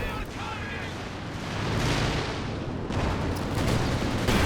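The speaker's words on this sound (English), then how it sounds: "The double rockets connect." Double rocket artillery strikes land in the video game Company of Heroes 2, a rumbling series of explosive impacts that build and sustain over several seconds amid dense battlefield noise, with a sharp burst toward the end.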